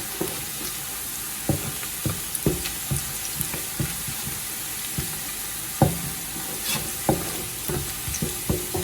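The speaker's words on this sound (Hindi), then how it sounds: "प्याज और लहसुन का हमने कच्चापन ख़त्म करना है ताकि फिर इनकी स्मेल जो है वो ना आए सॉस के अंदर से।" Onion and garlic frying in a pan as they are stirred, a steady close sizzle under repeated spoon scrapes and knocks against the pan, with no talk.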